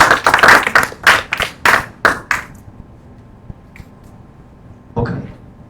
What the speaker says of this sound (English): Give an applause to him.